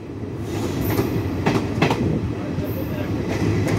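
A passenger train runs on rail tracks between Buniyadpur and Gangarampur, heard from on board as a loud, close rumble with rhythmic wheel clatter.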